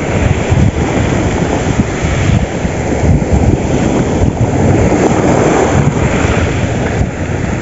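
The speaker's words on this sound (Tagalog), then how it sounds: "Lakas ng alon." Rough, churning ocean waves at Dingalan, Aurora, roar continuously, loud and close, mixed with heavy wind buffeting the microphone.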